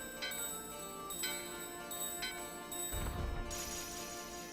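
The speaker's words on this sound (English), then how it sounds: "Sadly, we have to use the stupid bell we just got." A magic bell item used in Final Fantasy IX chimes in bright, evenly spaced strikes about once a second over soft game music, followed by a heavier crash-like burst near the end.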